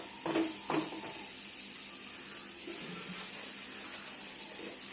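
Tempering ingredients and raw mango fry in a pan for mango pulihora, giving a soft, steady sizzling hiss with a couple of brief louder crackles near the start.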